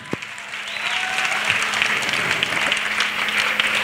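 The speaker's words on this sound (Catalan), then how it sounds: "Un aplaudiment, big round of applause for Neus." Applause from the audience at a country dance competition, a steady, full burst of many people clapping, with a faint cheer and some crowd murmur underneath.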